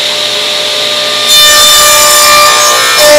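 A saw trims excess wood against a fence while making craft-show bottle stopper display stands: a steady tool hum that swells abruptly louder as the cut begins, close and continuous.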